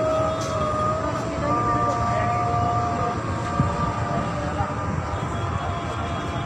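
A train rumbles past nearby with a sustained low roar and steady tonal hum, a few faint clanks in the mix and a voice speaking briefly over it.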